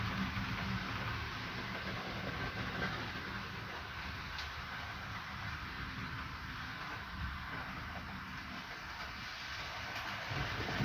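A model railway locomotive runs steadily along its track, a continuous low rumble with faint clicking that holds at an even level throughout, with no voices.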